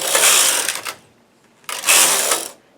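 A knitting machine carriage is pushed across the needle bed for two rows, each pass a loud, close whirring rush, separated by a brief pause.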